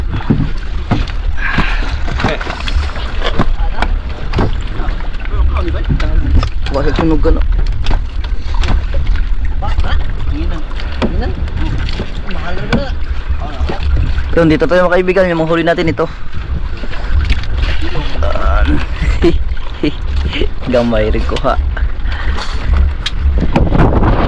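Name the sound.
strong wind on boat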